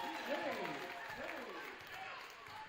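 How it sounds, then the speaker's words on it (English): Crowd noise swells and cheers through a gym at a varsity girls basketball game between Markesan and Winnebago Lutheran, a steady roar for the whole moment with play-by-play commentary talking over it. "it's the loudest the crowd's been tonight"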